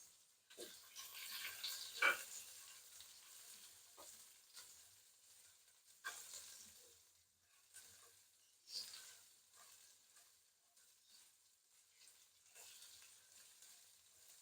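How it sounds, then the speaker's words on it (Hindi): Native garlic cloves and a medium piece of ginger fry in a pan for mutton paya soup, giving a soft, steady sizzle with light stirring scrapes and a few crackles, faint and close, without speech. "एक बंच मैंने देसी लहसुन लिया है और एक टुकड़ा मैंने दरमियानी साइज का अदरक का लिया है। इनको भी फ्राई करेंगे।"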